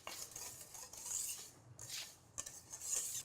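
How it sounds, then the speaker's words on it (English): Dry ingredients including cocoa powder whisked together in a bowl for a chocolate cake, a soft rhythmic scraping and stirring of the whisk against the bowl, close and fairly quiet, with no talking. "Making sure that you just whisk all of this together so it's evenly incorporated"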